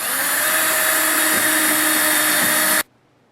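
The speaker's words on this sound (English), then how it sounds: "I'm just going to pre-drill for those screw holes" A power drill pre-drills screw holes in a door jamb for a Segal Jimmyproof deadlock strike, giving one steady, loud, close whine for nearly three seconds before cutting off abruptly.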